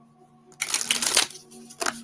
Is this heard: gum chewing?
no